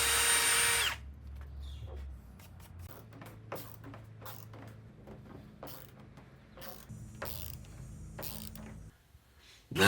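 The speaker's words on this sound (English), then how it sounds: "And here I'm just countersinking the holes for the top." A power drill countersinks screw holes in red oak for a gun cabinet top: a loud motor whine at the start, then a series of quieter clicks and short mechanical bursts, close with no talking.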